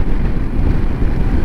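Strong wind buffets the microphone during a motorcycle ride on a country road behind the downs, a loud, continuous low roar and rumble with no talk.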